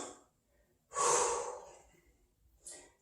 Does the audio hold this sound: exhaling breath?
yes